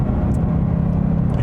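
A 2020 Ford Mustang Bullitt pony car with a nearly 500 hp engine, a loud, steady low rumble and drone echoing off overpasses while driving, constant throughout with no talking.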